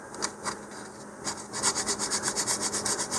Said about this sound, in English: you could use an emery file like this one